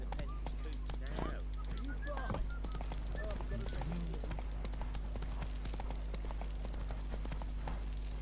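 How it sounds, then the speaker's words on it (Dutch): Horse hooves clip-clopping at a run in The Witcher 3 video game, a steady rhythmic patter over a low game soundtrack hum, with brief speech-like sounds and a faint whinny. "We gaan eventjes ons paardje pakken."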